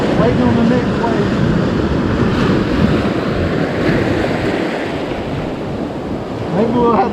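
Gulf beach surf after Hurricane Idalia, with waves washing ashore in a constant loud roar mixed with heavy wind buffeting the microphone, swelling again near the end.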